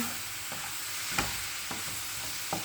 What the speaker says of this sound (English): as I'm stirring this in